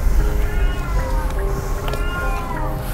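A cat meows a few times at close range, the drawn-out calls rising and falling over steady low background rumble, with a voice briefly mixed in.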